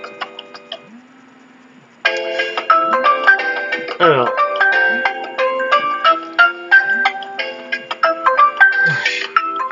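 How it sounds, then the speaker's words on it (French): A phone rings with a melodic electronic ringtone of bright, repeating notes, loud and close, while someone briefly speaks over it. "le téléphone qui sonne, c'était pas prévu"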